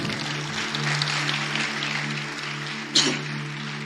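Church congregation applauding in praise during a worship service, a steady wash of clapping throughout with a low hum underneath and a brief sharper burst near the end.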